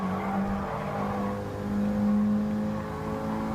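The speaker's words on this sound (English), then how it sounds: "the Honda S2000 is about to go passing in onto the Ferrari Dino" Several game race cars, including a Honda S2000 and a Ferrari Dino, drone and rev at steady volume, one engine's note rising and falling as it closes in for an overtake, with no talk over it.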